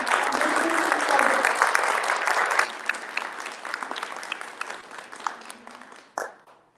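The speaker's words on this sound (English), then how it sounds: "Let's have a huge round of applause for Shivaji" Loud applause from an audience at a Chhatrapati Shivaji Maharaj Jayanti celebration in the USA, 2024: dense, sustained clapping that eases after a few seconds, carries on more thinly and then stops.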